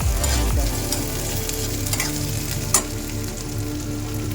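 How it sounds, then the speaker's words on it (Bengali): Curry leaves and grated ginger fry in hot oil in a pan with a steady sizzle, stirred throughout, with a few sharp clinks of the spoon against the pan. "এবার এর মধ্যে আমি একটা কারি পাতা দিয়ে দিচ্ছি"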